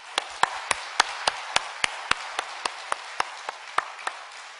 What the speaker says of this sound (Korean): 우리 하나님께 영광의 박수 한번 올려드리시겠습니다